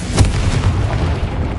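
A Confringo spell in Hogwarts Legacy bursts with a loud, close fiery blast, a heavy booming rumble that lingers and fades over a second.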